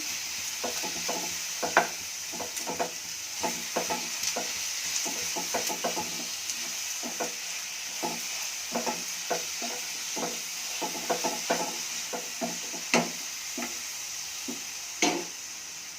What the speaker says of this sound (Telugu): వేసి అంతా ఒకసారి కలిపేసి స్టవ్ కట్టేద్దాం